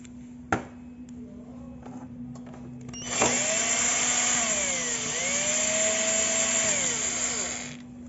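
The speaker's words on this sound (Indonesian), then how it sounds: "Jadi baut ini kalian lepas ya, kita lepas dulu." A power tool whirs close by, loosening a bolt on a Honda Astrea Grand motorcycle, running steadily for about five seconds with a rising and falling pitch after a sharp click and some handling noises.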